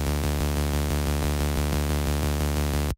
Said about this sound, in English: Just a sawtooth together with the white noise now.